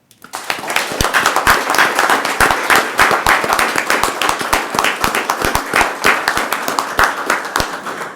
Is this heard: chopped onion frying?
no